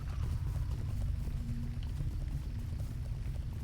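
Horse hooves clip-clop steadily in the video game Lord of the Rings Online, a fast, continuous, even rhythm at constant loudness with no talk.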